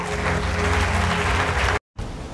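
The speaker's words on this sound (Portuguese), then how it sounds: "Você pode aplaudir Jesus." Steady, dense applause from a church congregation during a religious broadcast, loud and sustained, briefly cut off near the end before resuming.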